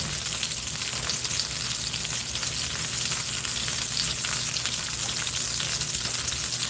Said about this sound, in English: But you get to watch the stuff sizzle.